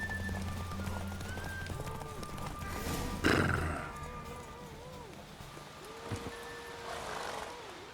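Horse hooves clip-clop at a gallop in a horse race in the video game The Witcher 3, with a few whinnies, under game music and sound effects, with a sharp impact partway through.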